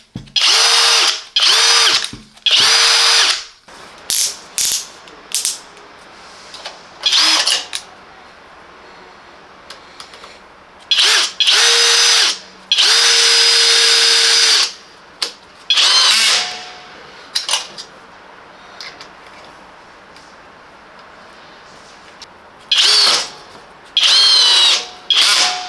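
Parkside 20V cordless drill driver PABSP 20 Li C4 running in repeated short bursts of high whirring, each a second or two long, separated by quiet pauses, close and loud, alone.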